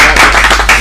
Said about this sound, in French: on applaudit pour la mode